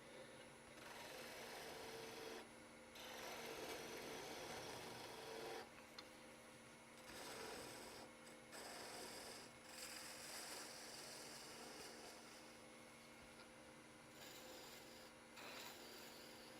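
Steady, raspy sanding strokes scrub back and forth continuously for a long stretch, with a few brief pauses and a faint hum underneath.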